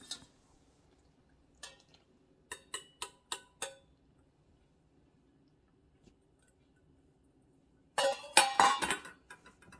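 Warm milk and one egg are stirred into a dry bread-dough mix in a bowl, heard as a scatter of short spoon-against-bowl clinks, a few sharp taps, then a louder burst of stirring and scraping near the end.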